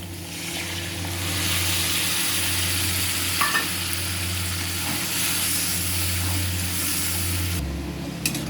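Coriander leaf paste frying in a pan for a katla fish dish, a steady close sizzle with occasional stirring scrapes, continuous and moderately loud with no talking.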